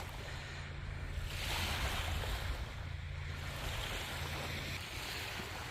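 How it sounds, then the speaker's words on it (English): Small waves lap steadily on the Presque Isle beach of Lake Erie near the lighthouse, a continuous soft wash of surf with light wind rumble and no voices. "Nothing like enjoying the lighthouse and the little waves behind me."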